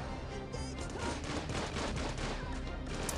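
Rapid Gatling gun fire from an enemy gunner in the snowy Tiny Troopers 2 video game, a dense continuous rattle of shots at low volume with no talk over it.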